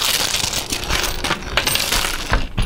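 A snack bag crinkles right up against a microphone, a dense, continuous crackling that fills nearly three seconds with sharp bursts throughout.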